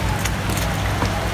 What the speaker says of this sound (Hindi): पूरे में बारिश हो रही है